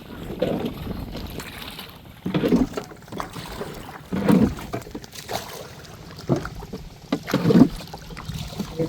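A small rowboat moves across water, with rhythmic splashing oar strokes every couple of seconds, close by, under light wind noise.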